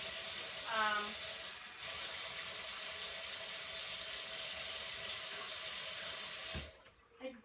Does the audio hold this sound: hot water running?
yes